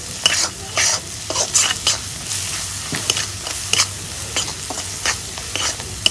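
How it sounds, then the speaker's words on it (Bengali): Spice paste being stir-fried in oil: a low bubbling sizzle broken by repeated scraping strokes of a spatula against the pan, in an uneven rhythm, close and clear with no speech. "মশলাগুলা এখন আমি তেল দিয়ে কষে নেব।"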